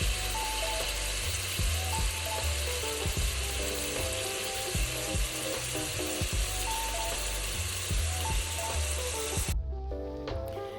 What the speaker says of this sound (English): I immediately put in the mushrooms to start cooking those down